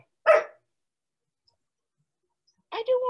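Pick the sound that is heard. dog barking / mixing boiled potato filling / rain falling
dog barking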